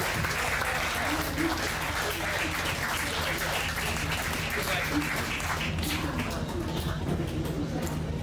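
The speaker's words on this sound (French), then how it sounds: "Des applaudissements s'il vous plaît" Sustained applause from a large crowd at a political meeting, steady and dense for the whole stretch, with some voices mixed in the background.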